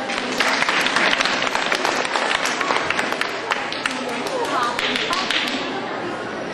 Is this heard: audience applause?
yes